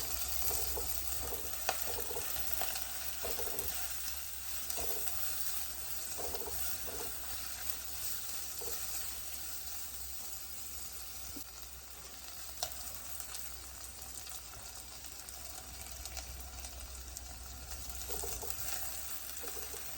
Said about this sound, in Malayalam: വെളുത്തുള്ളി ഇഞ്ചി പച്ചമുളക് കൊച്ചുള്ളി ഇത് മൂന്ന് ഇത് നാലും കൂടി ഇട്ടാണ് നമ്മൾ വഴറ്റിയത്